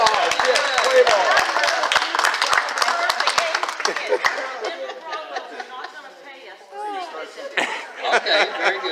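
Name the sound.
round of applause at meeting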